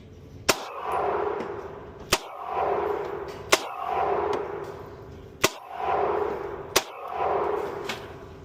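Five sharp rifle shots from an Anderson Manufacturing AM-15 fired at a target ten yards out, spaced irregularly about one to two seconds apart, each a loud crack followed by a rolling outdoor echo.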